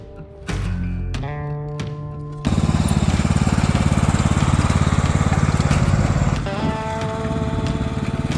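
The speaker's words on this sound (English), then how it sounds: "Today we're going to use the garden tractor." A garden tractor engine runs up close on a homestead vegetable plot, first a lower idling drone, then a loud, rapid, steady chugging roar that shifts pitch near the end.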